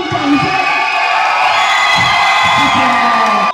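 A crowd cheers, whoops and shouts continuously and loudly for Keelung's Mingchuan Junior High School team winning the B-division championship after an extra-time final, then cuts off abruptly near the end.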